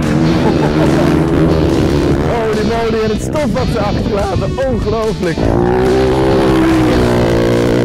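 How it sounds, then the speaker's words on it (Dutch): Dakar Rally race vehicles roar past near the track with a loud, continuous engine drone that rises and swells as they pass close by, while someone speaks excitedly over the noise. "In de verte hoor je zo aankomen met het gebrul van de motoren."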